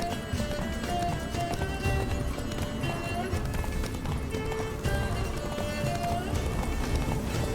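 Horse galloping at speed in The Witcher 3: Blood and Wine, rhythmic hoofbeats pounding under game music and effects, with voices talking over the ride.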